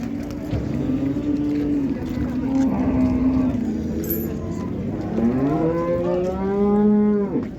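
At the busy Karshi Karvon cattle market a bovine lets out a long, low moo, then a second rising, drawn-out bellow near the end, close and loud over constant background bustle.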